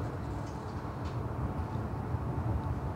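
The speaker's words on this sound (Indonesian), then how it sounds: "Kereta api Argo Cirebon tiba di stasiun Jatibarang teman-teman." Heard from inside the cabin, the Argo Cirebon passenger train arriving at Jatibarang station at night makes a steady, low rolling rumble, fairly quiet and unbroken.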